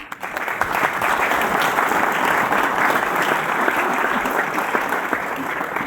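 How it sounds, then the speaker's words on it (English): Loud, sustained applause from a large crowd, dense and steady from start to finish. "Give them a round of applause."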